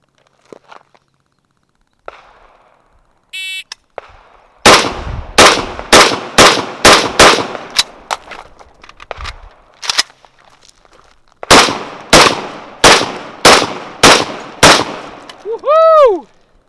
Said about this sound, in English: you're going to shoot 6 rounds, bolt lock reload